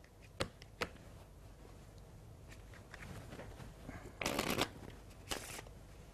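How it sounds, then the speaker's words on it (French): Deck of playing cards being split and shuffled, some halves face up and some face down, with sharp flicks followed by two bursts of riffling, close and clear. "Je vais séparer le jeu en deux pour mélanger une partie face en l'air et une partie face en bas."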